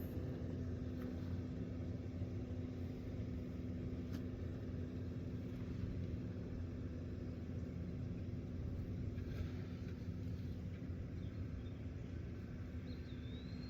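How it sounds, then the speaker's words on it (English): A nearby truck engine idles, producing a low, steady rumble with a constant hum that continues unchanged for the whole stretch, moderately quiet, with no talking. "sorry for the sound of the truck"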